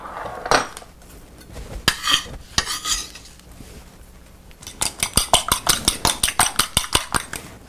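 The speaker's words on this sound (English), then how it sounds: "For the chives, I'm using a really sharp knife and chopping them uniformly." A sharp knife chops chives on a cutting board for an omelette, first in scattered taps, then a fast, even run of close, crisp knocks.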